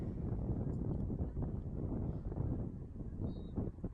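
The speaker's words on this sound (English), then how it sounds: "it's plenty windy here at East High" Steady wind gusting across an outdoor high school soccer field during a girls' game, a continuous low rumbling buffet on the microphone that stays fairly faint and even throughout, with no voices.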